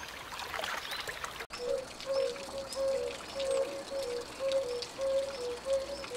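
Mountain water flows and trickles steadily close by, with soft pouring and gurgling, joined by a repeated faint croaking call in the background.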